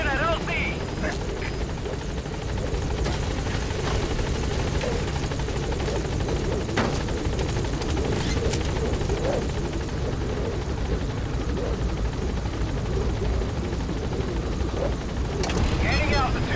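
Helicopter in Metal Gear Solid V: The Phantom Pain arriving at a landing zone, a loud steady rotor drone with a low rumble that continues throughout, with radio chatter over it.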